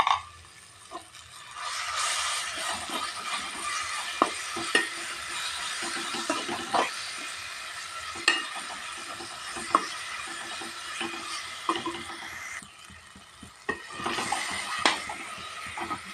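Grated raw mango stirred and frying in a pan for mango rice: a steady sizzle runs throughout, with spoon scrapes and clinks against the pan recurring every second or two.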